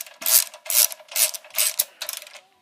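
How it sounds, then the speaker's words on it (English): A ratchet wrench turns a fastener on a go-kart engine in five quick bursts of rapid clicking, each about half a second long and separated by short pauses. The clicks are close and fairly loud and come with no talk over them. "Ratchets, aren't they great?"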